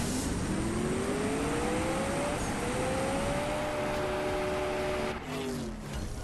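A race car launching and accelerating in the mobile drag racing game CSR2, engine pitch climbing steadily through gears with a shift break midway, loud and close, no talking.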